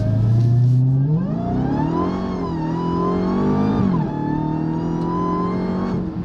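A 2021 Dodge Charger Redeye fitted with a Legmaker intake accelerates hard from inside the car, its loud engine note climbing steadily through the gears with a brief dip at a shift, continuous and close.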